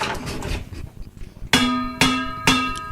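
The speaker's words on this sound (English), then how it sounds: "Now, try the hammer." A hammer strikes metal four times in a steady rhythm, each hit a loud, ringing clang, after a stretch of quieter rustling.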